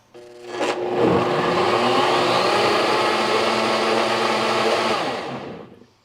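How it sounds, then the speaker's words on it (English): A food processor whirs loudly and steadily, blending butternut squash vegan queso with a little salt for several seconds, then spins down at the end. "I'm just going to process that for another few seconds."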